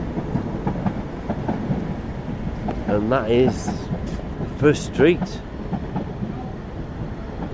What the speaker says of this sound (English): Well, there's the train.